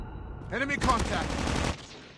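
Automatic gunfire in the Call of Duty Mobile Highrise map, a rapid burst of shots lasting about a second, fairly close and loud, followed by a fading tail.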